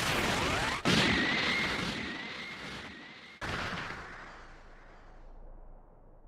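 A roaring Special Beam Cannon energy blast from the video game Dragon Ball: Sparking! Zero bursts out, sustained and crackling, cut by two sharp explosive hits, then trails off into a fading rumble.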